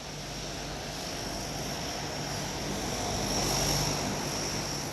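A turboprop aircraft engine running at 13,820 RPM gives a steady, loud roar with a constant high whine, droning evenly throughout with no pauses.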